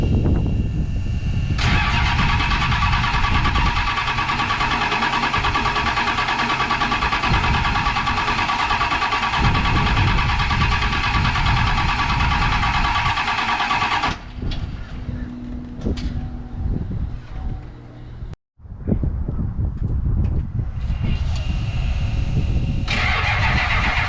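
A Ford 7.3 diesel engine in an older OBS truck cranks repeatedly on low batteries, a loud, sustained starter grind that stops, then resumes in shorter attempts without firing, heard up close.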